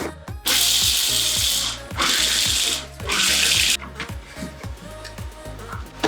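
A food processor pulses through edible chocolate soil in three loud, short bursts of whirring and rattling, followed by quieter mechanical clatter, close up with no voices.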